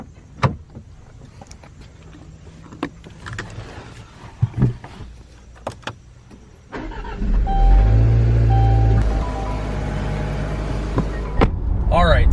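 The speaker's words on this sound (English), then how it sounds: "we have a 2018 Range Rover Evoque. So let's take this thing for a drive" A 2018 Range Rover Evoque starts up and sets off, its engine note swelling to a steady drone under scattered clicks and knocks heard close in the cabin.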